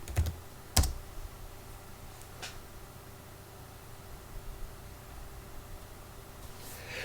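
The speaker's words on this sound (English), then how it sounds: "Type in your password." A password is typed on a computer keyboard while software is installed on Linux: a few sharp, close key clacks at the start, then a long quiet stretch with faint scattered ticks.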